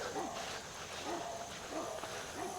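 A dog barks repeatedly in the distance from down at the street, a few spaced yaps over steady background noise and faint voices.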